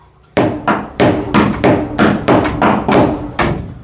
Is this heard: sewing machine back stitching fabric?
no